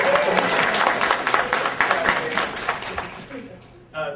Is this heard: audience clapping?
yes